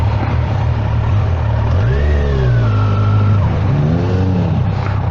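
A Kawasaki motorcycle engine idles close by and then revs up and down in smooth rising and falling sweeps, loud and continuous.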